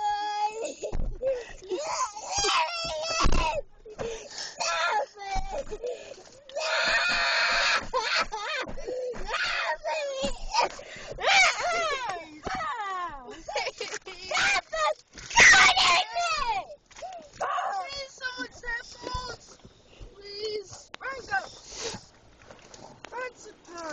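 A four-year-old girl screams and wails in a car, her cries rising and breaking in repeated loud bursts through the whole stretch, close to the microphone with little pause between outbursts.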